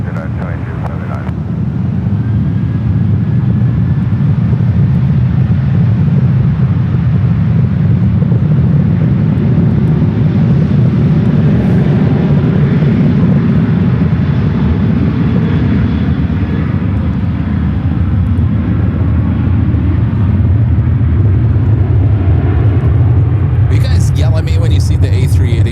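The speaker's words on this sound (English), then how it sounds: "Alright, Air India, second flight of the day, 777-300ER." Air India Boeing 777-300ER airliner taking off from short runway 28 Left at San Francisco airport, a loud continuous jet engine roar with a deep rumble and wind buffeting throughout, and people talk over it.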